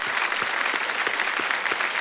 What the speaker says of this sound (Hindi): तालियों के साथ आपका अभिनंदन हो रहा है